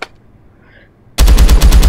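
A gun in the VR shooter Hard Bullet opens up after a near-silent second, firing a loud, rapid automatic burst of evenly spaced shots right up close.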